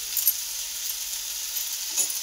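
Potato, tomato and eggplant frying in oil with turmeric, giving a steady close sizzle with soft crackles throughout.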